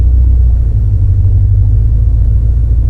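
C4 Corvette with a Crossfire setup driving on a road test, its engine holding a steady, loud low rumble throughout with no speech.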